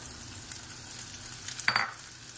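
Octopus recipe ingredients go into a hot pan, giving a soft sizzle that swells briefly into a louder burst of frying near the end, close and short with no talking.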